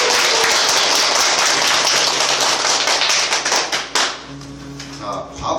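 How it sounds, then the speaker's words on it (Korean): An audience bursts into applause at the start of a lecture, dense clapping from many hands that fills the room, then thins into scattered individual claps toward the end. "우리가 제 5강 세계 선택을 우리가 박수와 함께 시작하도록 하겠습니다."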